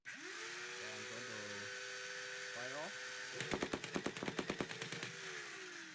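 Modded Nerf Doomlands Desolator blaster revving its flywheels with a rising whine, then firing a rapid full-auto burst of about ten sharp, evenly spaced shots, close and loud before the motors spin down.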